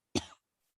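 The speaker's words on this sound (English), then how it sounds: "not a COVID cough." A single short, sharp cough, close and fairly loud, followed by silence.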